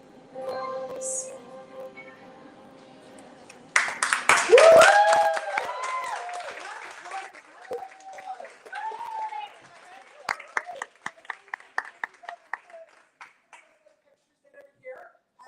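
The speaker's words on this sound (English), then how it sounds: "Another round of applause for him." An audience breaks into loud applause that swells, then thins into scattered individual claps, over a voice speaking at the start and some clinking sounds.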